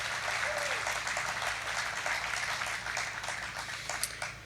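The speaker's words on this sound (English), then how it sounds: "Please join me again in giving Cypress Land and Worland Investments a big round of applause" Steady applause from an audience at a city state-of-the-city event, sustained clapping throughout at moderate level, heard from a distance in a large room.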